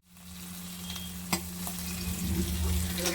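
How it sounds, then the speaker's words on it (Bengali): Shrimp frying lightly in a pan, a continuous bright sizzle that swells slightly over the clip, with a single sharp clack of a utensil early on and soft stirring scrapes later. "আমার চিংড়ি মাছটা হালকা করে ভাজা হয়ে গেছে"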